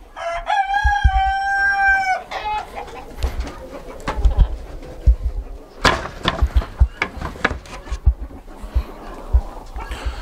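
Adult and growing chickens cluck and scratch around a small-farm barn, with a rooster crowing once near the start, followed by a busy scatter of close clucks, wing flaps and thumps.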